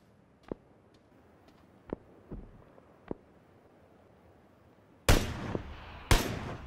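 Gunshots in PlayerUnknown's Battlegrounds: several faint, distant cracks spaced about a second apart, followed by two much louder, closer shots with echoing tails.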